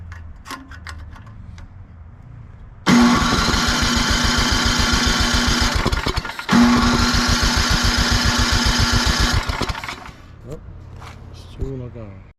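A Craftsman 27-inch snowblower engine catches and runs loudly with a steady rapid chug for several seconds, cuts out briefly, then restarts and runs again before stopping, over quiet background noise.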